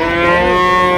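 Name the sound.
Holstein Friesian cow mooing at cattle market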